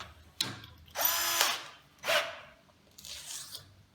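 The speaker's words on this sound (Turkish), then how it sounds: "Şimdi bizim en çok kullandığımız bu şekilde sacımıza vida atıyoruz." An Einhell TC-CD 18/35 Li cordless drill drives a screw into sheet metal, giving several short whirring bursts with brief pauses between them, close and fairly loud.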